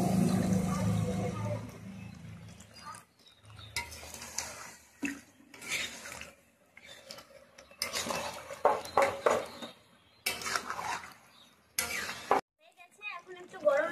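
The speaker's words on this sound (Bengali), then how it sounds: "এখন এটাকে আরেকটু নাড়াচাড়া করে জল দিয়ে দেবো।" A spoon stirs and scrapes duck curry cooked with yogurt in a metal pot, with intermittent clinks and a splash of water being added, heard close and moderately quiet among pauses.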